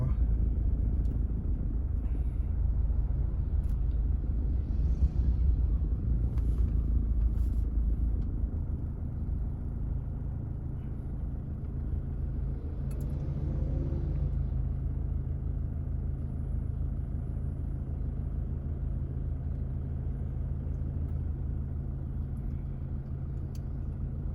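A car cruises around a university campus with a steady low engine hum and road rumble from inside the cabin, while people talk quietly in the background.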